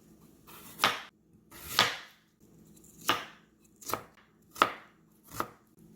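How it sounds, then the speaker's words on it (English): Half a beet thinly sliced with a knife on a cutting board, six distinct crisp chops spaced about a second apart, close and fairly quiet with no talking. "Next, you want to get half a beet and you want to thinly slice that as well."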